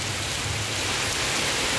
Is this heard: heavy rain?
yes